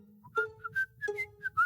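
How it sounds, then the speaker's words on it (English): Mailman whistling a short, bright, close tune in quick separate phrases while putting mail in a box, in a video game. "Jill turned to see a mailman whistling as he put mail into the box out front."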